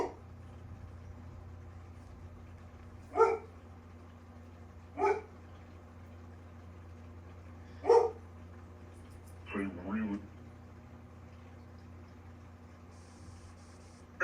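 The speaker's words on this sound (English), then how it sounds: "that's what my dog's now barking at." A dog barks a few separate times at intervals, single sharp barks with a brief double bark near the end, faint and somewhat distant over a low steady hum.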